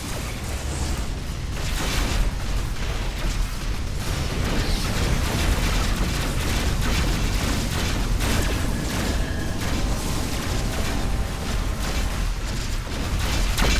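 Missiles explode against a ship during a space battle in Rebel Galaxy, giving a steady, dense barrage of booms and bursts layered over continuous rumbling game noise, with no voices.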